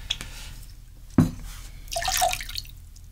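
Liquid drips and splashes into a glass while a Touchdown Shooter drink is mixed, with a sharp pouring splash followed by a brief trickle and bright clinking drops, close and fairly quiet.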